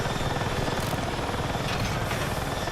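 Helicopter in Battlefield 6 with a loud, steady, dense rotor and engine roar that fills the clip without a break, rapid chopping pulses running underneath; no voices.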